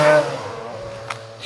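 Two-stroke motorcycle engine running at a track, a buzzing tone that flares briefly then settles into a steadier lower hum, heard from a moderate distance.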